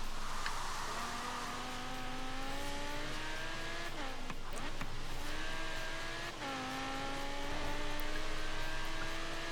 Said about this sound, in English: Really busy road this one, isn't it? There's loads of traffic on it.